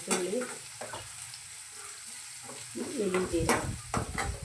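Fenugreek, curry leaves, shallots and garlic sizzle and crackle in hot oil in a clay pot while being stirred, a close, steady frying hiss with scraping stir strokes.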